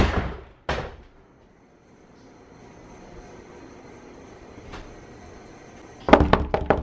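A door is banged and slammed hard, with a sharp crash at the start, another soon after, a faint knock midway and a flurry of rapid loud bangs at the end.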